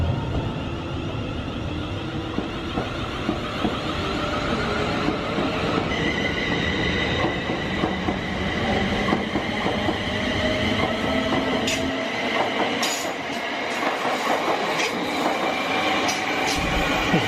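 A train, likely an empty stock move, rumbles steadily along the tracks near Stratford, London, for a long stretch, with wheel noise and occasional high metallic squeals as the carriages roll past.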